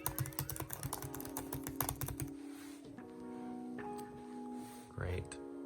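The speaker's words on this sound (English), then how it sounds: "So this is typing with the MacBook Air." Fingers type on the keyboard of a 2020 MacBook Air in a quick run of close, crisp key clicks. A voice talks alongside, and fainter, sparser taps follow as it continues.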